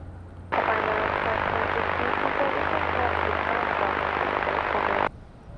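German Air Force aircraft making a touch and go or low pass at windy Madeira Airport: engine roar starts abruptly, holds loud and steady for about four and a half seconds with a low drone beneath, then cuts off sharply.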